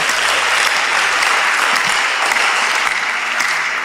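A church congregation applauding together, dense sustained clapping from a large crowd filling the room for a few seconds, loud and even throughout.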